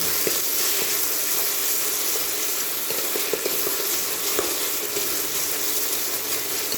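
Green chillies sauté in hot oil with a loud, continuous hissing sizzle, broken now and then by faint pops and light stirring taps.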